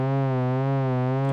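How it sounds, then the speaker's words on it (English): A steady synthesized tone with a smooth, gentle vibrato from a sine-wave LFO, its pitch gliding slowly up and down in a continuous wave. "If I have a sine wave, it's going to loosey-goosely go up and down."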